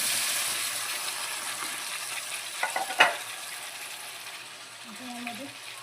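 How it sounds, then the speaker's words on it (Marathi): Chopped ridge gourd frying in hot oil for a quick vegetable dish, giving a steady close hiss with a couple of sharp pops and crackles around the midpoint, then settling into a softer sizzle. "गिलके कट केलेले ना आपण तेलामध्ये टाकून घेणार आहोत."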